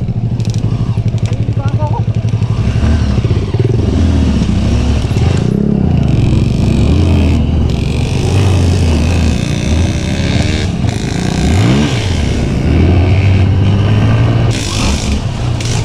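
A Honda CRF 150L motorcycle with a 520 sprocket runs loud and steady along a dirt trail, its engine droning and shifting in pitch with scrapes from the track, while a person talks over it.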